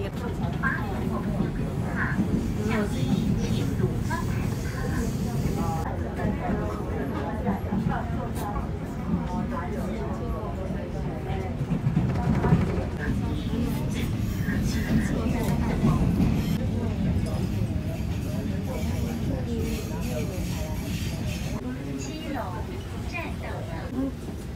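Interior of a moving train in Taiwan, a steady low rumble and rattle of the carriage throughout, with people talking over it.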